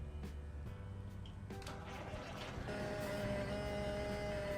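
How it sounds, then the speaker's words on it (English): In American Truck Simulator, an International Transtar 4070A's low air pressure buzzer starts partway through, a steady electronic tone continuing over a low, droning engine rumble. "You get the buzzing noise for the low air"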